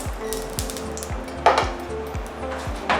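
Scallops searing in bacon grease in a pan, a close steady sizzle with a brief spatter burst and light pan clinks, while background music plays.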